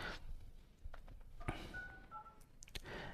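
Keypad tones from the phone dialer on an Android 13 Poco X3 Pro, a handful of short separate beeps spaced irregularly over faint room noise, close and quiet, no speech.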